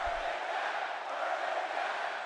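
A wrestling arena crowd in WWE 2K22 chants "burn it down", a dense, steady wash of many voices heard from a distance with no single voice standing out.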